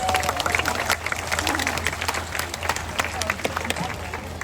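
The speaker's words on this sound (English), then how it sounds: "Let's give her a round of applause." Outdoor crowd at a zoo seal show claps in a loose, moderate burst, mixed with background chatter and babble from spectators throughout.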